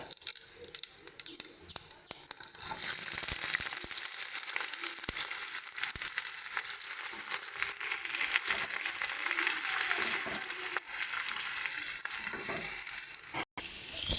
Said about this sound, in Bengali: চলো ভালো করে পেঁয়াজটাকে ভেজে নেব আমরা